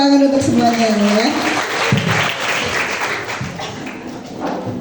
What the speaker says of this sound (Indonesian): Tepuk tangan untuk semuanya ya.